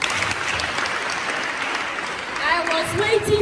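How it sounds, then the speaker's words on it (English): Brief, moderate applause from an audience at a menstrual hygiene day event at Kpone Polyclinic, followed by a speaking voice near the end. "Let's give her a clap."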